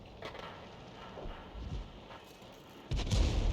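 Tank cannon fire from a KV-2 in the video game World of Tanks, a few booming shots under faint background game noise, with a heavier blast near the end.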